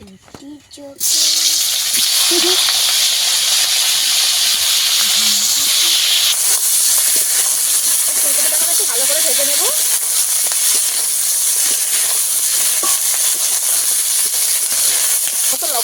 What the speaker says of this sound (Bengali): ওই মাছ ভাজার তেলের মধ্যে আরেকটু তেল দিয়ে দেব